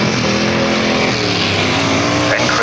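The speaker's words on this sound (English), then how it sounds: "eases off the throttle. Revving strong in 2nd place." Grasstrack racing engine at a 1991 Bodiam meeting revs hard and continuously, a loud, dense motor drone close by that holds steady throughout with no pauses.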